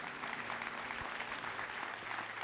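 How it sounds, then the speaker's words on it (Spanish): Applause from a church congregation rises for the Lord during a Spanish-language sermon, a dense, steady patter of clapping filling the room at moderate level, with a faint hum underneath. "Da un aplauso serio al Señor"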